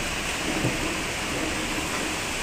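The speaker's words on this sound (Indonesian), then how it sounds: "Wah, hujan lebat." Heavy rain pours down in a dense, steady roar that fills the whole moment, loud and close with no break and no voices.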